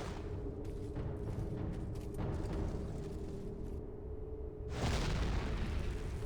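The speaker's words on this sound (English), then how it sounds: "My cannons will turn these walls to rubble, Stefan." Cannons fire at castle walls during a siege battle in the PC strategy game Warhammer: Mark of Chaos. Muffled, distant booms and bursts sit under a steady battle rumble, and a louder blast arrives near the end.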